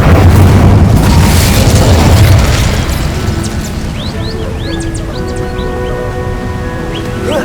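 A loud booming fire-spell blast from Incendio in Hogwarts Legacy, a heavy explosive roar for the first couple of seconds that fades into a quieter tail with game music and chiming effects.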